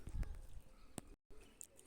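Soft, low pigeon coos come in a few short bursts with brief pauses between them, close by and fairly quiet.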